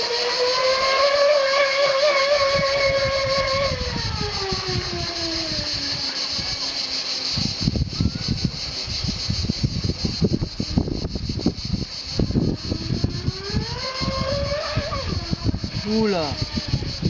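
A 1/16 scale F1 tunnel hull RC powerboat with Tamoil livery whines loudly, its motor pitch rising, dropping, then climbing again as it accelerates, with choppy splashing and rubbing noise and people talking nearby.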